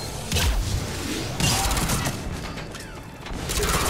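Shuriken submachine gun firing in the Mass Effect 3 video game, a couple of rapid bursts of sharp shots with clattering impacts, moderately loud over background game sound.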